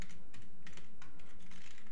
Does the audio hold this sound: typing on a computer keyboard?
yes